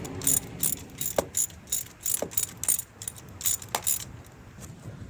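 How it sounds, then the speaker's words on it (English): A ratchet wrench clicks in short repeated bursts while a bolt is torqued down on a 2011-2015 Nissan Rogue during CVT transmission work, with the bursts close and fairly loud against a quiet garage background. "Probably torque this down to about 25 foot-pounds."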